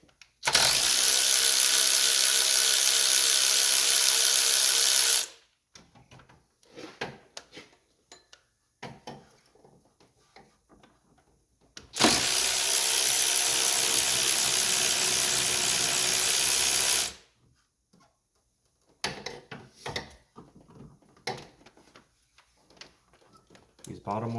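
A ratchet turns the 13 mm bolts on the water pump of a 5.7 Hemi Dodge Magnum. Two long, loud runs of rapid close clicking are separated by quieter tool handling.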